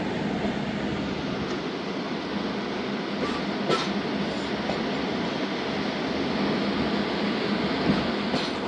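Zakariya Express train rolling along the rails after departing Mubarakpur, a steady broadband rumble of wheels and carriages heard from inside, continuous and fairly loud with a few brief clanks.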